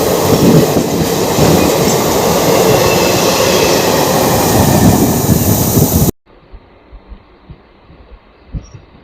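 A train on the Howrah–Haldia branch line runs with a loud continuous rumble and rhythmic clatter of wheels, then cuts abruptly to a much quieter interior with faint thumps.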